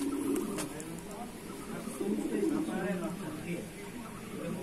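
Madrasi pigeons coo in a loft in Shyamnagar, soft low repeated calls close by, partly overlapped by someone talking throughout.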